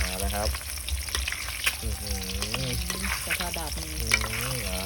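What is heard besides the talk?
egg frying and bubbling in oil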